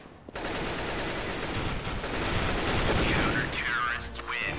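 Dense, loud gunfire rattles almost continuously in a Counter-Strike: Global Offensive match, rapid shots overlapping into a steady barrage, with a few brief voices cutting in near the end.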